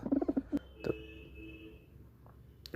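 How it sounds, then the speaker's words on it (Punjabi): Malwai pigeons coo on a blue loft umbrella. A few soft, close coos and short calls sound after a burst of light flapping or tapping at the start, with no talk. "ਸਾਰੇ ਕਬੂਤਰ ਚੰਗੇ ਨੀਲੀ ਛਤਰੀ ਤੇ ਲੱਗੇ ਆ"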